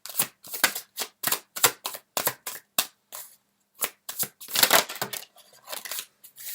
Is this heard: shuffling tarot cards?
yes